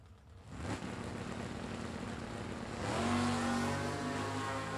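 A 1968 Chevy Camaro and other drag racing cars accelerate hard down the strip, loud engines roaring with rising pitch, the revs climbing steadily and swelling near the end.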